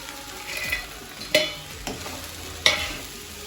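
Spices with turmeric fry in a pan with a steady soft sizzle, and a spoon scrapes and stirs through them in a few distinct strokes. No voices are heard.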